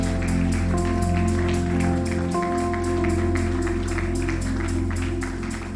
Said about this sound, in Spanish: Fuerte el aplauso para nuestro Dios.